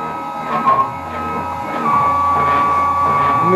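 A home-built CNC router runs its first test, its stepper motors whining at steady pitches that shift partway through, with a brief knock near the start and a constant mechanical hum underneath.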